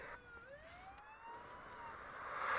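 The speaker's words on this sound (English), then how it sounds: "Lights flash and sirens blare." A police car siren wails with rising and sliding tones, fairly faint and distant, growing slightly louder toward the end.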